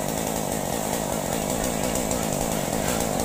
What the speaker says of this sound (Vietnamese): Nó quay cưa cái cây dừa này rất là cao luôn nè